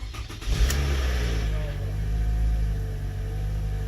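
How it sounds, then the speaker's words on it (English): A 2017 Toyota Camry fires up after a wiring harness repair: a brief crank and catch, then a steady, low engine idle that carries on close by. "the first time we start the vehicle after a year and a half after finishing the harness"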